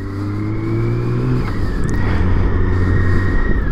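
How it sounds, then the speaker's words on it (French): A BMW K1600 GT six-cylinder motorcycle engine runs close and loud, holding a steady drone before a rising rev around the middle, then sustaining a higher, rougher note to the end, with no talk. "Je suis sur la moto de mon père."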